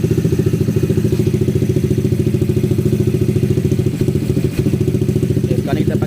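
A WMoto ES250i motorcycle engine bored up to 300cc runs steadily close by, a loud even idle with rapid regular pulsing and a few clattery knocks near the end.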